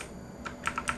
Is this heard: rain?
no